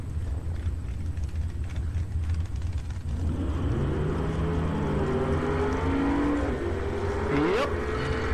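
A drag racing car launches down the strip at TriState Raceway, its engine roaring loud and steady from the start, then rising in pitch as it accelerates away, with a sharp whine near the end.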